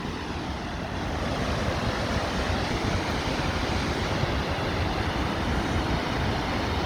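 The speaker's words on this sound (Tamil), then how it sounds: "மலையிலேருந்து வர தண்ணி எவ்வளோ ஃபோர்ஸாக வருதுன்னு பாருங்க" Fire Hole Falls, water rushing forcefully down from the mountain, a steady dense roar of falling water mixed with some wind buffeting the microphone, continuous and fairly loud with no voices.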